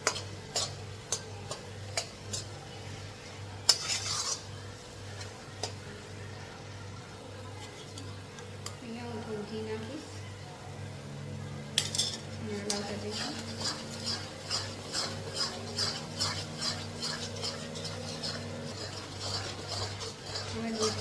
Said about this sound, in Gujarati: બ્રાઉન કલરનો થઈ જાય ત્યાં સુધી શેકવાનો છે ધીમે ધીમે હલાવતું રહીશું